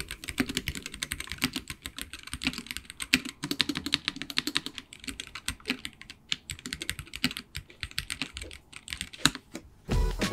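Wooting 60HE keyboard with factory pre-lubed switches being pressed over and over by a quality control machine, giving dense, fast, continuous clicking and clacking, close and fairly loud, with no voices.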